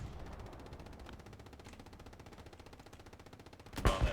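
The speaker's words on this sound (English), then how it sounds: "that Panzer IV is just gonna keep firing until I think until the belt's out of ammo" Rapid, steady machine-gun fire from a Panzer IV in a World War II video game rattles on as a continuous burst, ending in a louder, sharper blast at the close.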